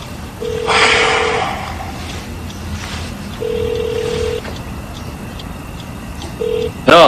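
A telephone call is placed and rings out unanswered, with three steady ringback tones, the first two long and the last short, separated by quiet gaps under a faint background hum, ending with a brief sharp burst.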